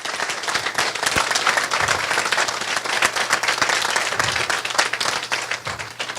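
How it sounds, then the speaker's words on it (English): Audience at a community unity breakfast applauding the planning team, a steady, dense wash of many hands clapping at close range for the full stretch, with no break. "stand up and give them a round of applause because they did a fantastic job."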